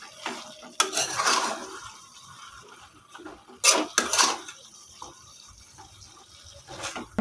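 Utensil scraping and clinking against a wok as pumpkin greens are stirred, coming in several short bursts with quiet pauses between, fairly close.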